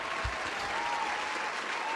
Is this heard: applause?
yes